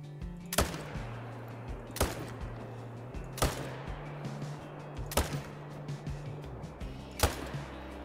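Rifle shots in the hunting video game theHunter: Call of the Wild, five sharp cracks spaced at uneven intervals roughly a second or two apart over a steady low ambient hum.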